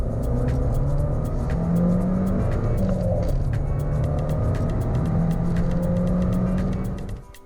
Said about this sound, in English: Let's see how this pocket rocket does on the 30-70 sprint.